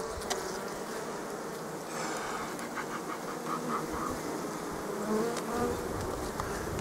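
Honeybees buzz steadily around an open beehive while frames of dark comb are handled, a close, continuous insect drone with no talking.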